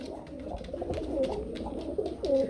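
A pigeon coos in soft, repeated throaty calls close by, with faint rustling and other birds around.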